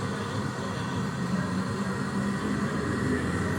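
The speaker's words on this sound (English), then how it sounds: "I'm going to go full throttle." Steady, droning engine roar of a Beechcraft Baron at full throttle in a custom-built flight simulator, loud and continuous with no talk over it.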